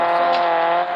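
Car driving in a video game, one loud steady engine tone held for a second, alone with no voices.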